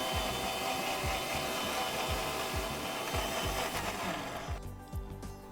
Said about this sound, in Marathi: बारीक पेस्ट करून घेऊया.